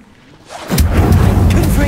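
The Incendio fire spell is cast in Hogwarts Legacy: after a quiet start, a sudden loud whooshing roar of flame swells in and keeps burning close by.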